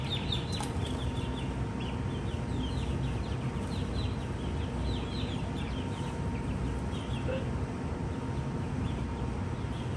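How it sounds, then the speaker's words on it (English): Rooster in a backyard chicken run, soft repeated clucks mixed with other chickens' calls over a steady low rumble of background noise, fairly close; no talk. "I think this is one of our roosters."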